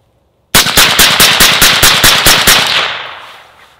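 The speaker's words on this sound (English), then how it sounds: "We're gonna do a 10 round string of fire." Ten rapid suppressed gunshots from a rifle fitted with a Surefire SOCOM RC2 suppressor ring out in an even, fast string, loud and close, followed by a fading echo.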